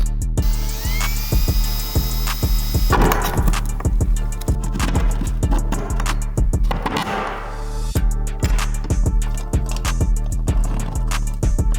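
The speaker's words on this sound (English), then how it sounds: "I'm just gonna drill these holes and get this bracket mounted" A drill bores holes to mount a bracket on a C8 Corvette Z06, a loud, close, steady run of rapid rhythmic knocking and whirring that carries throughout without pause.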